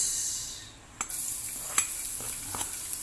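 Garlic and onion sauté in a pan for chicken adobo, giving a steady bright sizzle with a few light stirring knocks and a brief lull early on.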